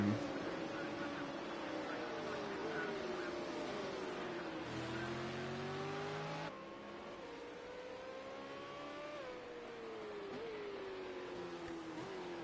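A Ford Falcon XR8 FG V8 supercar races around the Long Beach street circuit. Engines rise and fall in pitch as the cars pass and shift gears, staying loud and continuous throughout.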